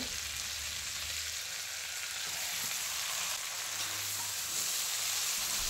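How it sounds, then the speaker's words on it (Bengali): Steamed gati kochu taro pieces fry in hot oil over a high flame, giving a steady, even sizzle that runs unbroken throughout. "এই তেলের মধ্যে ভাপিয়ে রাখা কচুগুলো দিয়ে হাই ফ্লেমে মিনিট 2-3 সময় ধরে ভেজে নেব।"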